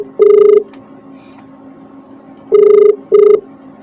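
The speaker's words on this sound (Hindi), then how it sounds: "ये घंटी जा रही है" Outgoing call ringback tone on a telephone line: a short steady electronic tone burst, a long pause, then two more bursts in quick succession, loud and clear with no talking.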